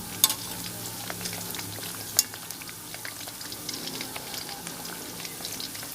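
Pork is frying in hot oil for crispy pork, a steady close sizzle and bubbling with occasional sharp pops and spatters, and no talking.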